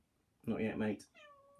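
A house cat lets out a short, close meow right after someone speaks a few words to it.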